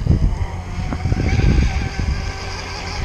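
A ZippKits R4 4S outrigger RC car with a larger motor, running loud and close with a steady rough whine and rumble that surges and eases briefly.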